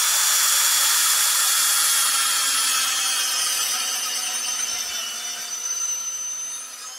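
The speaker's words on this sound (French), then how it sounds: "Alors maintenant, je vais percer jusqu'à ma ligne sur ma mèche." A drill bores a tap hole into a birch tree for sap, giving a steady, close, whining grind that holds for several seconds and fades slightly toward the end.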